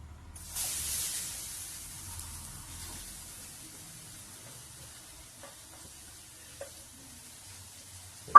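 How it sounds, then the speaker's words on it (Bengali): Grated sweet potato frying in ghee in a pan for a sweet potato payesh, with a steady soft sizzle that is loudest early and fades to a quieter hiss, broken by a few light clicks and a sharp knock at the end. "ভালো করে ভেজে নিতে হবে, চারদিকে যেন ঘিটা যায় সেইভাবে এটাকে ভাজতে হবে।"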